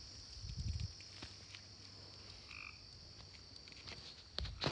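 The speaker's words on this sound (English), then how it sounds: "The frog says yes." A frog croaks outdoors at night in the mountains, with a few close, low croaks at the start and end over a steady high insect-like drone and faint rustling.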